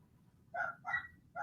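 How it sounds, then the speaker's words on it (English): Miniature schnauzers bark in the background indoors, three quick sharp barks in a row, fairly clear but not close. "I don't know if you can hear my crazy dogs in the background"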